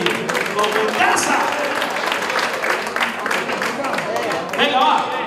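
An audience at a town youth festival concert claps in a dense burst of applause with voices mixed in, steady throughout the few seconds.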